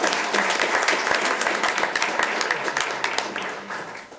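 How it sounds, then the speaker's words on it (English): An audience at a school district board of trustees meeting gives a steady round of applause, many hands clapping together at a moderate distance and fading slightly at the end. "Let's give them a warm round of applause."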